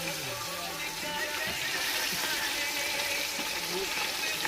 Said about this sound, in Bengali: একদম কড়কড়ে করে ভাজছে।